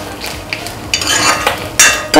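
Grated coconut roasts in a pan for an Onam dish while a spoon stirs it, giving close, dry scraping strokes and light clinks over a faint sizzle, with no one speaking.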